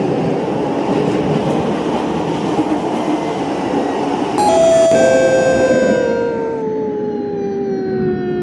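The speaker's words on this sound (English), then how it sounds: "Doors are closing." Train doors closing aboard a Roblox TEL Service CT251 train in a video game, a steady cabin hum broken by a loud chime and a descending motor whine that glides down and fades over several seconds.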